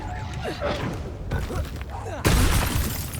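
In Hogwarts Legacy combat, the Reducto spell lands with a sudden loud burst near the end, breaking through busy battle sounds and faint talk.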